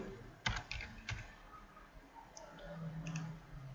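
Several quick keystrokes on a computer keyboard come in a short burst, followed by sparser, quieter clicks over a low room hum, all close and faint with no speech.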